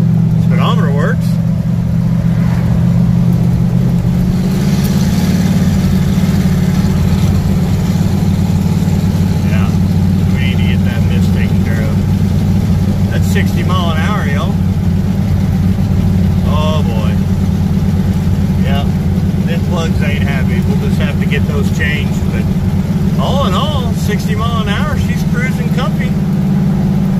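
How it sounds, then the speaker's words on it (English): A 1968 Pontiac ambulance engine, misfiring from a bad spark plug, runs steadily and loudly with an uneven note throughout, while people talk over it. "She's got a miss in her because of that plug."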